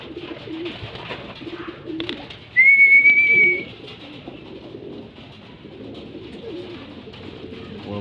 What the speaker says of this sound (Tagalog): Yan, nagpasukan na yung mga pasaway nating ibon.